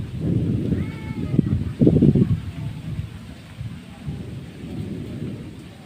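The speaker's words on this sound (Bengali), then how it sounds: "বৃষ্টি নেমে গেছে," Thunder rumbles loudly and nearby during a Kalbaishakhi storm, with rain falling steadily and gusty wind noise underneath, two heavy rolling booms early on before the rain continues alone.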